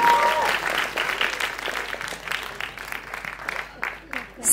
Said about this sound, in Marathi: मला वाटतं तेवढ्याच धमाकेदार टाळ्या देखील झाल्या पाहिजे